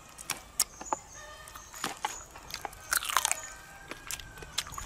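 Someone bites into crunchy food shaped like giant toes, close to the mic. The sharp, brittle crunches and chewing come in irregular bursts.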